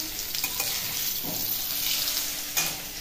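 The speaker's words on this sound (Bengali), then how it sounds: "মানে গ্যাসটা এতটা বেশি জোরে দেওয়া ছিল, আলুগুলো সব পুড়ে যাচ্ছিল" Potatoes fry over a high gas flame in a pan and begin to burn, giving a loud, dense, steady sizzle with occasional scraping stirs and soft clatter.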